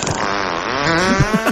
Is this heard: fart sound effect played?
yes